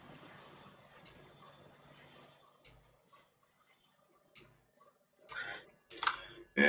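A train in the Transport Fever rail simulation rolls along faintly with light clicking and a thin squeal of wheels, followed by a few louder clattering bursts toward the end.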